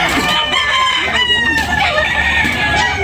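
A rooster crows loudly and up close at a busy chicken market, its long call overlapping other clucking fowl and dense crowd noise.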